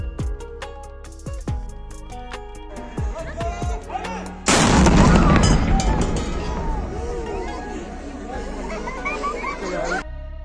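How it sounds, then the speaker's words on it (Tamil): Iftar cannon fired by Bahrain police at sunset during Ramadan, a single loud deep boom cutting through crowd chatter and laughter, followed by a lingering rumble and murmuring voices. "பீரங்கில் குண்டு முழங்கி எல்லாருக்குமே தெரியப்படுத்துவாங்க"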